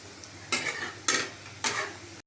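Onion bhaji (kanda bhaji) sizzling in hot oil over a medium gas flame, stirred three times in a steady rhythm, each stir a loud close scrape and splash of bubbling oil over a constant low fry.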